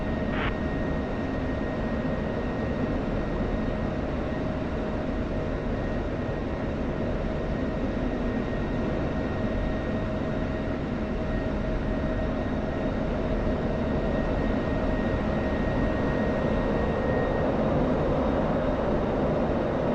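A fighter aircraft lands on a runway in a combat flight game, a loud, steady engine roar holding unbroken from start to finish.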